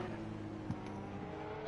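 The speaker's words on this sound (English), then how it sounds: "Oh, that sounds like a slow car." A slow race car in the Assetto Corsa Competizione racing game, its engine a steady low drone throughout, moderately loud and unchanging in pitch, with a brief faint bump partway through.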